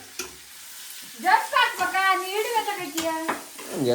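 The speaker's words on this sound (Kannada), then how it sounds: "ಅದು ಈ ಬೆಳ್ಳುಳ್ಳಿ ಇಡಿ ಹಾಕಿದ್ನಲ್ಲ ಅದೇ ಹೊಡಿತಾ ಐತೆ ಎಣ್ಣೆಗೆ" Whole garlic cloves sizzle and crackle in hot oil for a homemade biryani, a steady frying hiss sitting under voiced, tonal sounds that rise and fall through most of the clip.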